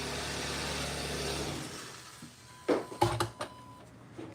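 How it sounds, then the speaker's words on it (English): A Hyundai Sonata engine idles steadily, then cuts off; after a short quiet gap, several sharp bursts of hissing and clicking come from the engine as a valve releases pressure, loud and close. "there's some like valve in this engine that builds up pressure and then lets it out when the car turns off"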